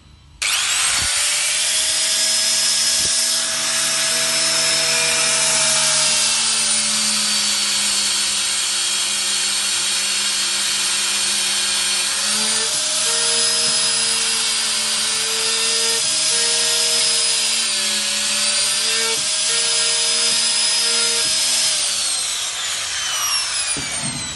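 A dowel jointer drills holes in wood with a steady high whine that runs for over twenty seconds, dipping slightly in pitch as the bit bites, then easing at the end.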